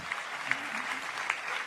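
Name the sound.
applause, big hand clap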